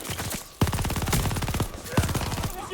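Rapid bursts of gunfire, including a shotgun, blast in the Call of Duty Vanguard game, with dense, loud, fast repeated shots and short gaps between volleys.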